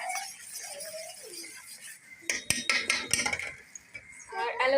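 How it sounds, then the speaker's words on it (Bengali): Homemade aloe vera soap mixture stirred in a bowl, with clinking utensil taps on the container that sharpen into busy scraping and clattering in the second half, close and clear, a short tonal sound at the start. "আমি সুন্দরভাবে মিক্স করে নিচ্ছি"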